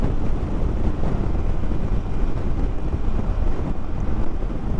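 Steady, loud roaring wind buffets the microphone while riding a motorbike on an open road across windy salt flats, a dense unbroken rush with no talk.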